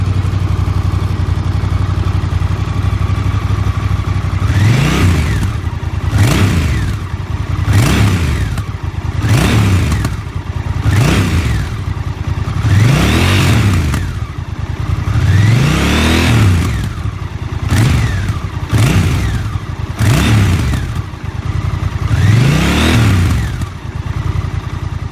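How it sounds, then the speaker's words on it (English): Honda Rebel 1100 with manual transmission, its exhaust revved repeatedly: loud, close blips roughly every one to two seconds, each rising and falling back to a low idle rumble. "And this is the manual exhaust."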